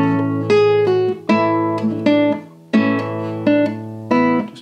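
Acoustic guitar picking the Manx tune Lhigey Lhigey, clear plucked notes in short phrases with pull-offs, each attack ringing and decaying, played alone and close up.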